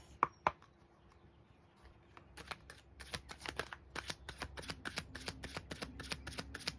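Tarot cards shuffled in a series of quick, crisp riffling bursts that speed into a steady rapid patter, with a couple of sharper taps at the start; close and fairly quiet, with no talking.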